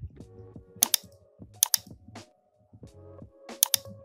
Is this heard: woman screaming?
no